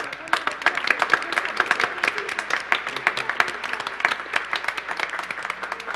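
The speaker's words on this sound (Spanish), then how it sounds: "Le damos un aplauso." A church congregation applauds at Mass in a basilica sanctuary, honoring a monsignor's 76th birthday: steady, dense clapping from many hands, moderately close, sustained throughout with no pause.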